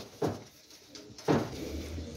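Flying pigeons coo softly in two short low calls at a pigeon seller's loft, fairly faint with light background noise and no talking.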